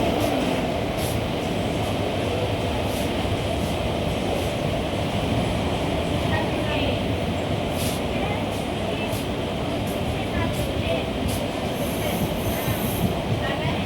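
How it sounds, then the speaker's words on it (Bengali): Steady, loud rumbling fills the inside of an empty moving passenger train travelling to Kasimbazar station. Rolling wheel noise and clickety-clack continue throughout, with occasional brief metallic squeals and clicks. "এরকম কিন্তু জীবনে প্রথমবার আমি ট্রেন ফাঁকা পেলাম"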